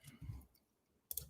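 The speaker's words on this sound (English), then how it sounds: "I'm going to double click this." Clicks from a computer mouse during graphic design work, a soft pair near the start and a sharper burst near the end, close and quiet with no talking.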